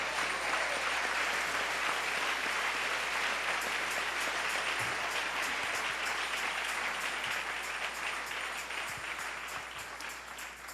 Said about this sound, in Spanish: Dale un aplauso al Rey en esta hermosa mañana.